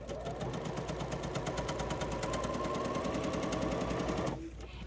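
A BERNINA sewing machine with binding foot #71 stitches along a marked line in a fast, steady, close mechanical hum and rattle that stops just before the end.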